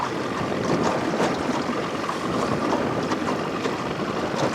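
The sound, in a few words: wind blowing on a moving boat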